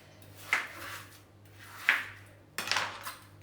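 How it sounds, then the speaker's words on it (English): A knife chops large yellow bananas into smaller pieces for a smoothie bowl, giving three separate close-up chops with a short clatter each, spaced about a second apart, with no talking. "So just chopping these into smaller pieces."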